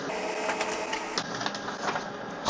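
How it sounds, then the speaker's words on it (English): An HP LaserJet Pro MFP M28w laser printer runs close by, feeding and printing pages with a steady whirring mechanical hum broken by clicks and rattles. "The printer will print 2 sheets of information about itself"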